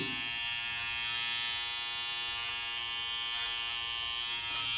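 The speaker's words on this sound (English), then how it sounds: "you can clearly hear the voice of this trimmer" Steady, continuous electric buzz of a Nova NG1153 hair trimmer running close, a bright mechanical whine with no change in pitch or any voices.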